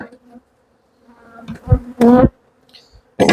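Honey bees buzzing around an opened hive during an autumn inspection, a faint hum under intermittent handling clatter of frames and boxes with a few louder knocks.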